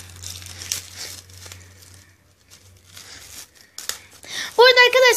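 Crinkling of a pink plastic bag, irregular rustles at close range mixed with talking, a short high-pitched squeaky sound near the end.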